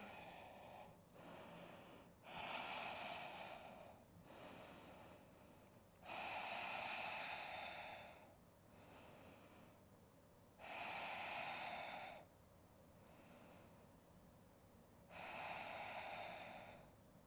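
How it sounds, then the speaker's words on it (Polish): Slow, deep breathing during a yoga session, four long loud inhale–exhale cycles alternating with quieter breaths, close and steady, with no talk. "Jeszcze jeden głęboki wdech i wydech."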